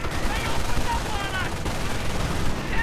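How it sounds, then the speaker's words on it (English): Rapid strafing-run gunfire in a World War II real-time strategy game, a dense continuous burst of automatic fire and explosions lasting the whole stretch, loud and busy. "strafing run!"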